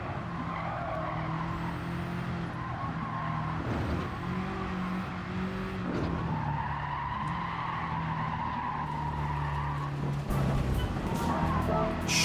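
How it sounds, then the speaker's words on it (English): A car in the racing game Gran Turismo 7 skids under hard braking, tyres squealing in a sustained whine over the steady drone of the engine, loud and continuous throughout. "So when you brake like that, you skid off."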